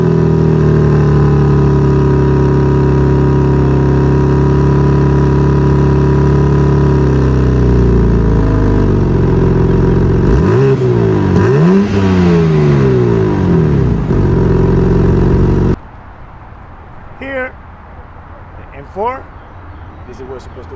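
A 2021 BMW M4 idles with a deep factory-exhaust rumble, then revs sharply a few times before cutting to quieter background noise with brief sounds.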